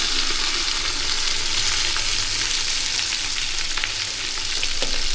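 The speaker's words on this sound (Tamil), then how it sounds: "எல்லாத்தையும் நல்லா போட்டுட்டு வதக்கிங்க." Sliced onions sauté in oil in a pan for mushroom biryani, a loud, constant sizzle and crackle that fills the whole stretch without pause and without any voices.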